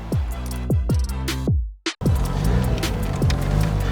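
Old car driving with its engine running loud and close: the engine note climbs, then drops sharply at each gear change, with a brief cut-out before it pulls again.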